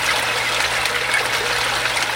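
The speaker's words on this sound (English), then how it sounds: "make sure the sieve filter's running properly" Steady water trickling through a running sieve filter on a water system, a continuous close, even splashing flow with no talk.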